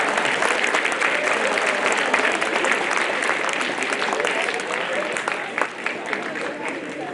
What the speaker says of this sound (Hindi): जोरदार तालियां हो जाए मैडम के लिए।